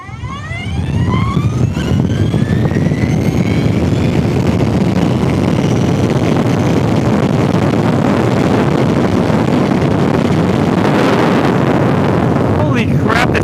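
Energica Eva Ribelle electric motorcycles launch and accelerate hard, their motor whine climbing steadily in pitch beneath a loud, constant rush of wind noise.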